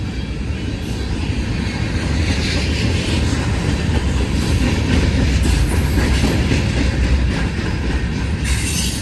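A BNSF freight train rolls past at Mulvane, Kansas, close and loud, its dense rumble and steady wheel clatter filling the whole stretch with a slight brightening near the end.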